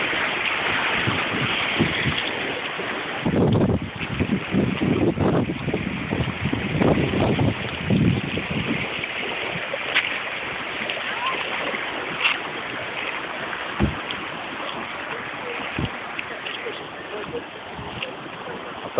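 Century floodwater on the Mandava river at Staré Křečany roars steadily throughout, a broad continuous rush mixed with wind buffeting the microphone, with voices occasionally audible beneath.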